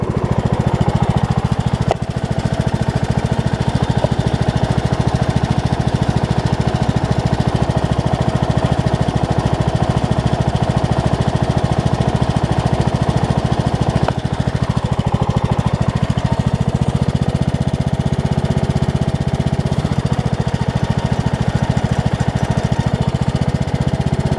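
A Troy-Bilt Pony riding lawn mower runs steadily through a test mow, its engine loud and close with a continuous droning hum and a brief dip in the middle.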